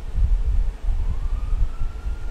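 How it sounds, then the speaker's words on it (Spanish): A police siren in the video game GTA V wails faintly with a slowly rising tone, partly buried under heavy low engine and wind rumble. "Ya viene, si estoy escuchando la sirena todo el puto rato."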